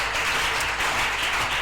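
Church congregation applauding the Lord during a sermon: a dense, continuous wash of many hands clapping at once, steady and fairly loud throughout with no talking over it.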